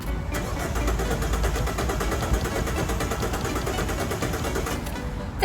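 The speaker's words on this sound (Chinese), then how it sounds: "先上车打火试一下" A car engine that will not start cranks steadily in a long, even, rhythmic grind. It never catches, and the sound stays close and continuous throughout.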